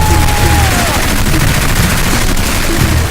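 Gunfire shoots up a house, a loud, dense barrage of overlapping shots and booms filling the whole stretch without pause, with a faint whistling tone near the start.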